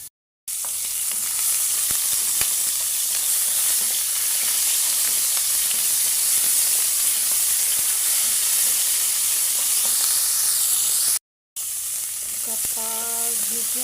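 Pork frying in a pan for a Filipino mixed-vegetable sauté, a steady loud sizzle with hiss that runs unbroken, cutting out briefly near the end before resuming.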